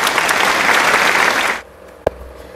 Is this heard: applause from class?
yes